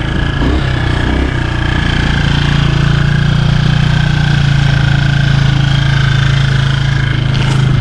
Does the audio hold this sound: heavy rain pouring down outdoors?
no